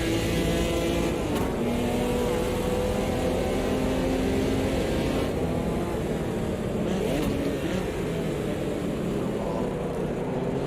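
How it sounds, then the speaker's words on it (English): A Porsche 911 RSR race car engine in Automobilista 2 roars continuously on a Grand Prix circuit, steady and loud, with other cars' engines mixed in and occasional shifts in pitch as it overtakes. "Porsche on the inside, sounding amazing."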